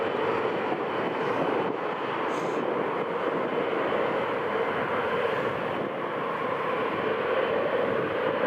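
A KLM airliner on approach to land on runway 07 at Newcastle International Airport, a steady broad engine roar that holds evenly and fairly loud throughout with no talk.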